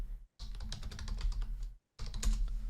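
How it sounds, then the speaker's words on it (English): Rapid clacking of keys on a computer keyboard in two bursts with a short pause between, close and fairly loud. "Hearing me typing or whatever."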